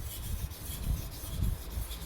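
A chipped knife is stroked across a sharpening stone, giving a few close, gritty rasping rubs in a quick back-and-forth rhythm.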